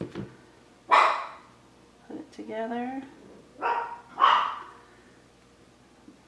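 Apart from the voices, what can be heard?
dogs barking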